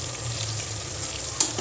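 Tomato and ginger garlic paste for Ambur-style chicken biryani fry in a pan as a steady, close sizzle, with a brief scrape of stirring near the end and no voices.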